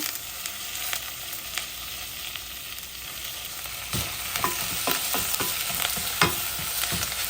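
Onions and garlic fry for Korean wakame seaweed soup, a constant close sizzle that grows busier partway through as quick stirring strokes and scrapes come in.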